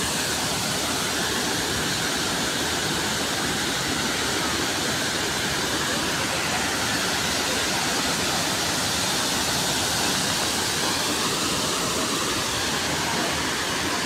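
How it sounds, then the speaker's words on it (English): Waterfall at Bird Paradise, a bird park, roaring as a steady, dense broadband rush of falling water that is loud and constant throughout with no voices. "ini di Bird Paradise Waterfall"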